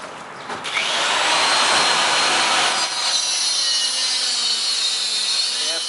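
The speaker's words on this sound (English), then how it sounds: "So you take a die grinder and grind them off." A die grinder cuts off old masonry anchors during a door and frame installation, a loud, continuous high-pitched grinding whine that starts abruptly and holds steady close by, with no talking.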